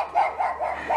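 A neighbor's dog barks four times in a quick, even rhythm. The barks are fairly close and clear, and nothing else is heard.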